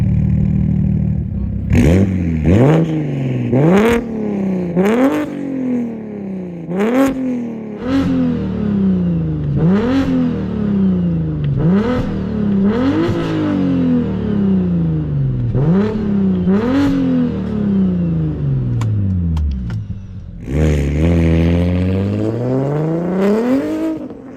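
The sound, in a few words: straight-piped car exhaust revving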